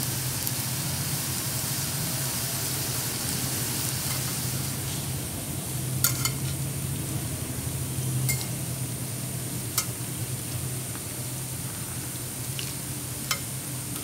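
Gobi manchurian cauliflower pieces fry steadily in a pan, a continuous hiss of oil with occasional sharp scrapes and clicks as the pieces are turned and stirred; no one speaks.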